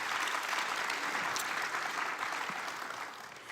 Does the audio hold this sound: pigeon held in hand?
no